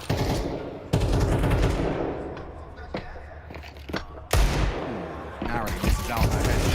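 Counter-Strike 2 pistol fire at a major esports match: sharp single shots crack at irregular intervals, with a louder burst of gunfire later, over continuous excited shoutcaster commentary.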